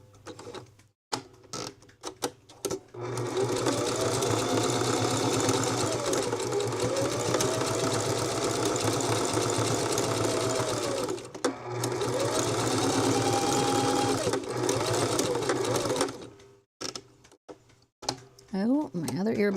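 A sewing machine stitching rope bowls and trays runs in long steady whirring stretches, with brief pauses and clicks between seams and a few handling sounds at the end.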